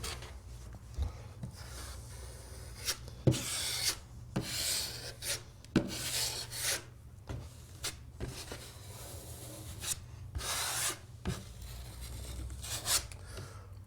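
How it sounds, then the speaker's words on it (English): A broad knife spreads Tradeset plaster compound over plasterboard wall joints, feathering the edges, with repeated close scraping and rubbing strokes in an irregular rhythm, each stroke a short rasping swipe against the wall. "apply a second coat of Tradeset using the broad knife to feather out the edges"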